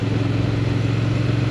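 Honda Transalp 750 motorcycle on a test ride, its engine holding a steady, close mid-pitched drone with a faint throb throughout.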